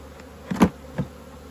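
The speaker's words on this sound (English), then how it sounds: "A bit early in the morning and bees are a bit stroppy" Honeybees buzz at an open hive early on a spring morning, the agitated insects making a few close, swelling buzzes as they fly past, with no talking.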